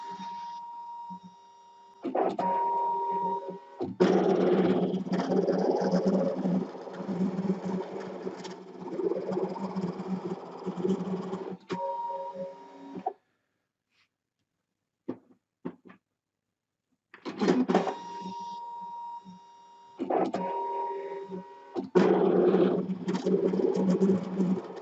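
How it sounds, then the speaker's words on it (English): A ScanNCut cutting machine works through fabric backed with freezer paper, producing a steady mechanical whir and hum in long runs broken by short pauses and a quiet gap near the middle. "we'll cut that. with the settings that we've got in the machine"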